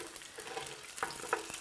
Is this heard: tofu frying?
yes